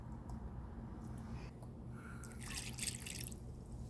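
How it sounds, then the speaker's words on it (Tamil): Water is poured into blended beetroot juice in a jar, a faint, soft trickle with a few small drips and splashes in a quiet kitchen. "நமக்கு இன்னும் கொஞ்சம் தண்ணியாக வேணும்னா கொஞ்சம் தண்ணி கூட சேர்த்துக்கலாம்."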